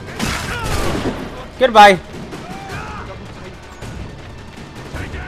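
Enemy gunfire in the Assassin's Creed III video game, a burst of loud shots around the middle against a busy game soundscape, with someone talking and shouting over it.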